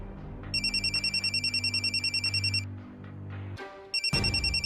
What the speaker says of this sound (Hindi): हाँ विक, फेयर बैनर्जी दा फोन।